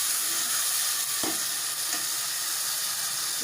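Tomatoes hit a pan of browned onion, garlic and ginger, giving a steady loud sizzle with a couple of sharp stirring scrapes, no voices.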